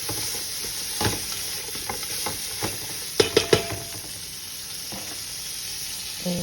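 Frozen peas sizzle steadily in a pan for egg and vegetable fried rice, with a spatula scraping and clacking now and then and a quick run of three sharper knocks midway; no one speaks.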